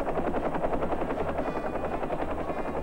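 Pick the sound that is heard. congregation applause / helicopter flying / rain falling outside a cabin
helicopter flying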